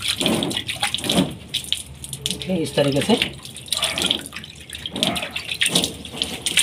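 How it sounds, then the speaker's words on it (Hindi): Water poured by hand over a screen printing film to wash it out for wedding invitation card printing, a splashing, gushing rush that comes and goes beneath someone talking throughout. "देखिए यहाँ पे मैं पानी डाल रहा हूँ, हमारा फिल्म अभी खुल जाएगा"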